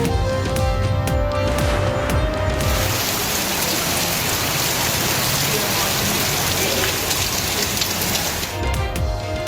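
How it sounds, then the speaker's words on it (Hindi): Rain falls across Karachi in a steady, dense hiss that fills the whole stretch, with brief tonal sounds layered in at the start and end. "कराची में बादलों का एक और पार स्पेल। लांडी, सुरजानी, नाजमाबाद समेत मुख्तलिफ इलाकों में कहीं तेज तो कहीं हल्की बारिश।"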